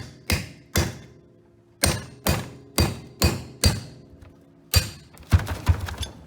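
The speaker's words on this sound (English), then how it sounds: "But then you just stick it right on top of the rivet tail. Then you're going to drive it out" Sharp hammer blows on a punch set against a rivet tail, driving a rivet out of a 1965-82 Corvette brake rotor in a workshop: about eight loud, evenly spaced metallic thuds, then a quick cluster of rapid strikes, with no talk.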